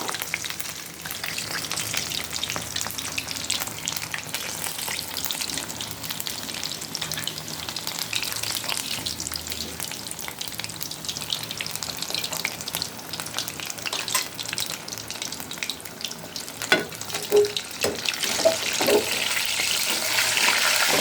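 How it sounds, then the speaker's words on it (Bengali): Dal (lentils) simmering in a pot on the stove, a steady close bubbling and sizzling texture that runs continuously, with faint clinks near the end and no talking. "ডালটা সিদ্ধ হবে আরও একটু ভালো করে সিদ্ধ হবে"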